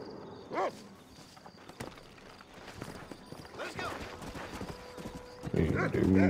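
Steady clip-clop of horse hooves at a walking pace with a couple of whinnies, over Red Dead Redemption game background noise, ending with a brief voice.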